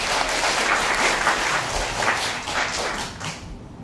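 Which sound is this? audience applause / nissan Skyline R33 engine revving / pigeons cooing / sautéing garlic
audience applause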